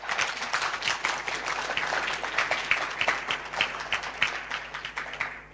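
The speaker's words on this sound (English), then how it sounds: "Give all of us a round of applause" An audience at a national urban policy launch gives a round of applause, with distinct overlapping hand claps in a lively, uneven rhythm that holds for several seconds before tapering off near the end.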